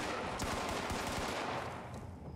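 Video game gunfire rattles in dense, rapid bursts from an automatic weapon, close and loud. The shots blur into a continuous, noisy barrage that fills the whole stretch.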